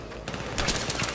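Rapid automatic gunfire in the Battlefield 3 co-op mission, a dense, loud burst of shots from nearby that intensifies after a brief, quieter opening.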